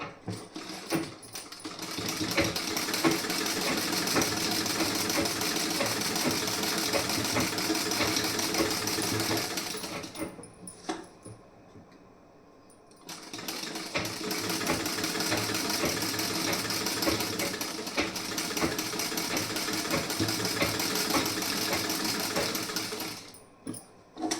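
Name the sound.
sewing machine stitching the side seam of a blouse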